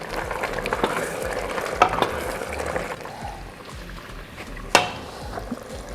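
Pork curry with curry powder stirred in a sizzling pan, a continuous frying hiss with scraping strokes and a sharp utensil clank near the end, no talking.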